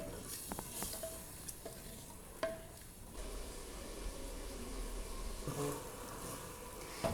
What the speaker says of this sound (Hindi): कीमे को ग्रेवी में 2 से 3 मिनट तक भून लेंगे